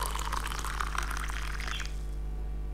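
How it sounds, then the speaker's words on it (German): Coffee poured into a cup in the video game Mental Repairs, Inc., a steady bright liquid stream lasting about two seconds and then cutting off, over a constant low electrical hum. "Oh, schönes Einschenkgeräusch."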